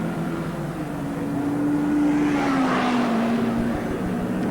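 Production motorcycles, including Yamaha, Ducati, Honda and BMW machines, racing in the 1978 Castrol Six Hour race at Amaroo Park: a loud, continuous engine roar with one engine's pitch rising and then falling as a bike passes close by.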